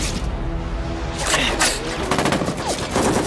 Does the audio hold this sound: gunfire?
yes